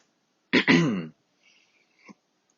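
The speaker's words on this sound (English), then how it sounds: "so sorry if I have to clear my throat every now and then" A single sharp throat clearing, close and dry, followed by a faint rustle and a short soft click, with no talking.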